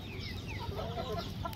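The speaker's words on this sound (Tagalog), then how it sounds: "Ito naman guys yung mga manok natin guys." Chickens clucking in a busy cluster of short calls, with constant low farmyard noise underneath.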